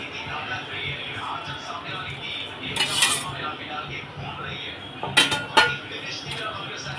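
Fried chicken liver (kaleji) is tipped into a tawa pan and stirred, with spoon clinks and scrapes against the metal and two sharper clatters near the end, under quiet background murmur.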